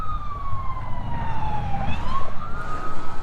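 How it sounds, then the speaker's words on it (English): Sirens from sheriff cars passing by outdoors beside a 2018 Caterpillar 262D skid steer, a wailing tone that slides down and climbs again, moderately loud over a low background rumble. "Sorry in advance if you hear some sirens. There's sheriffs flying by here"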